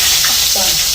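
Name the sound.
oil boiling hot in a pan for frying brinjal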